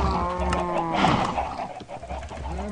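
Cows in the video game Minecraft moo in long, droning calls that overlap and fill the whole stretch, steady and fairly loud with no talk.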